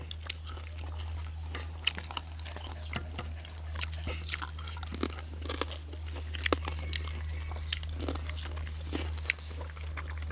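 Crispy-skinned roast suckling pig being bitten and chewed, with faint irregular crunches scattered over a steady low hum, nearby but soft.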